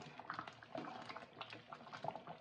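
Korean chicken curry simmers in a pot, giving off soft, continuous bubbling and popping at low volume, close by and with no talking over it.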